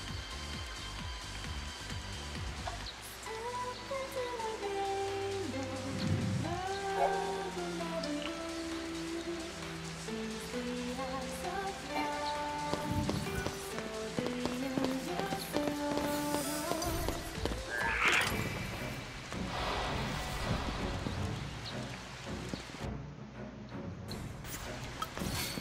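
Steady rain falls in the video game Final Fantasy XIII, a continuous wash of patter running under melodic game music throughout, with no talking.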